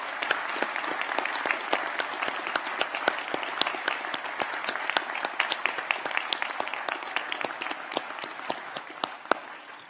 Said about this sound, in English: I wonder if the audience would join me in applauding the wonderful achievement of these graduates.